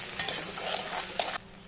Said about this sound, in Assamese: এইখিনি খুব ভালদৰে ভাজিব লাগিব